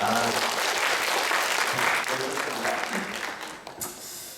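Congregation in a church applauding children at an Easter service, a dense, sustained clapping that fills the room and tapers slightly near the end.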